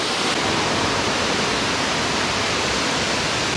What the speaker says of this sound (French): Là, on est au premier palier de la cascade.